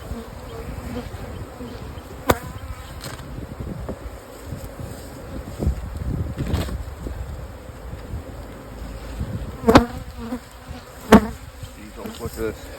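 Honey bees buzz around an open hive as a beekeeper works it in the rain; a continuous near swarm drone with individual bees flying past the microphone, plus occasional rustles and knocks from handling equipment.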